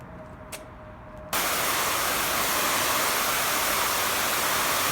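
A hose nozzle on its fan setting suddenly bursts into a loud, steady hiss of spray hitting a car wheel after a brief quiet moment, continuing unbroken to the end.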